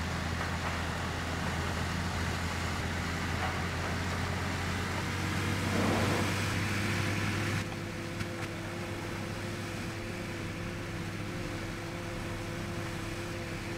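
A tractor engine in the Farming Simulator 15 video game drones steadily as the vehicle drives through the South West Norway map, a constant loud hum with a brief swell midway.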